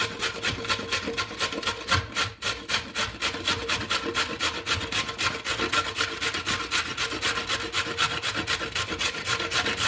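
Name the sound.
grating carrots on a grater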